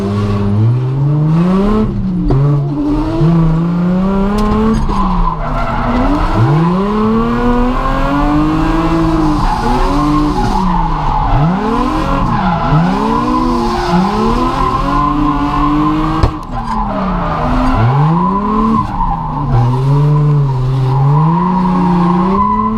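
Drift car on a Driftcup 2018 top-16 chase run, engine loud and close throughout with harmonics swooping up and down over repeated revs, tires squealing and skidding through sustained slides.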